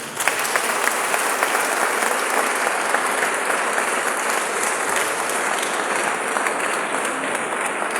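Sustained applause from an audience after a speech at an academic staff orientation programme, a dense, steady wash of clapping that carries evenly through the whole stretch without pauses.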